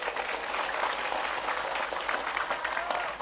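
A crowd at a Thursday afternoon religious gathering claps steadily in a dense, loud wash of applause lasting a few seconds, with no voice over it.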